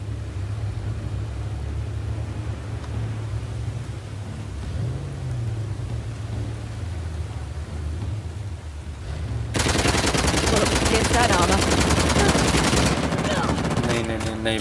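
Video game gunfire: a low rumbling, droning stretch gives way to loud, dense rapid-fire bursts like a machine gun for the last few seconds.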